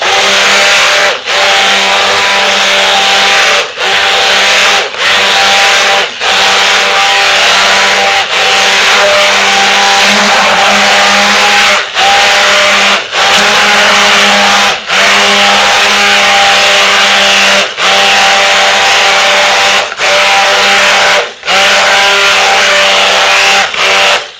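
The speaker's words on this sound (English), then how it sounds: "Keep your stick blender submerged." A handheld stick blender, submerged and mixing lye water into oils for a double batch of hot process soap, whirring loud and steady with brief regular pauses throughout.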